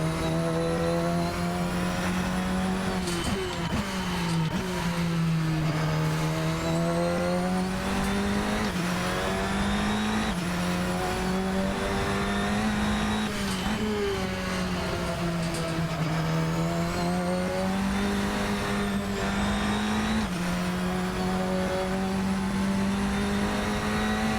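Radical SR10 XXR8 race car in the Assetto Corsa racing game, its engine roaring continuously and loudly with pitch rising and falling through gear shifts and corners, heard alone without talk.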